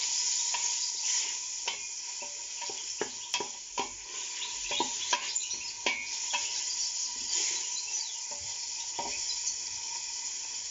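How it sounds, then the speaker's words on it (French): Harira, the Moroccan soup, simmers in a pot over medium heat while a spoon stirs it, giving a steady soft bubbling with repeated scraping and knocking strokes against the pot and no voices. "je laisse mijoter quelques minutes en remuant de temps en temps."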